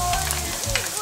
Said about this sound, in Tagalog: Tapos, lagyan na natin yung bawang natin.